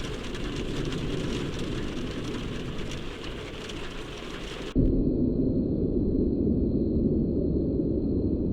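Thunderstorm rain in The Joy of Creation horror game, a steady dense downpour that suddenly shifts to a louder, closer rain roar around the midpoint, with no talking.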